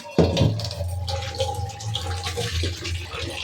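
Water pours steadily into a basin while fish are washed, splashing and trickling close by with a running, hollow wash.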